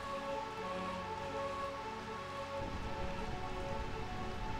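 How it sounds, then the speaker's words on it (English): Steady rain falls in Burmecia, the rain-soaked realm in Final Fantasy IX, a continuous dense hiss of drops on surfaces with a low rumbling undertone beneath, alone without talk. "Burmecia, the realm of eternal rain."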